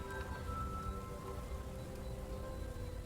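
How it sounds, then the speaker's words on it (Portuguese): Rain falls steadily outside a haunted mansion in a tabletop roleplaying session, a soft, even hiss of rain on surfaces with a faint low rumble underneath and no talk. "Tá chovendo, Miguel. Cara, tá sempre chovendo."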